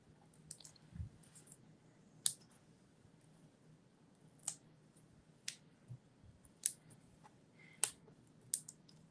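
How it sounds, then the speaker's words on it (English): Scissors trimming ribbon on a handmade Stampin' Up! card, giving several sharp, separate snips spaced a second or two apart over a quiet, faint background. "then we'll trim our ribbon down so it looks a little better"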